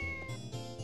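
Cats meow inside the farming game Harvest Moon 64, with several short synthesized mews in quick succession over steady background game music.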